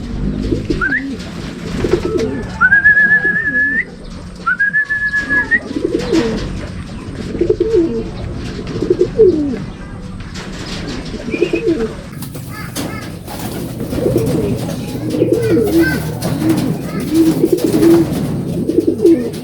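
Homing pigeons coo repeatedly at close range in soft, rolling bursts, mixed with occasional higher chirps and rustling outdoors, with no talking.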